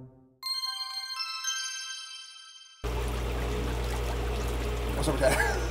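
Hot tub water bubbling, a steady loud rushing churn of jets that starts abruptly after a chime-like electronic melody and continues under faint voices.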